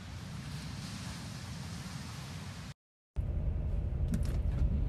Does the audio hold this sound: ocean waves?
yes